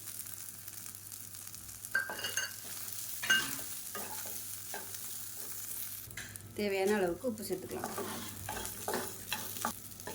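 A spatula repeatedly scrapes and stirs grated coconut and curry leaves in a frying pan over a low sizzle, while a person speaks briefly between the strokes.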